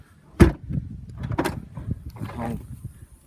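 A Rover 75 Tourer estate's split tailgate unlatches with a sharp clunk, then a lighter thud and rattle as it lifts, with soft muffled movement afterward.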